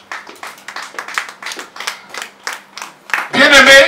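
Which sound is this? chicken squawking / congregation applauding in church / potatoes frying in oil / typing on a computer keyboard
congregation applauding in church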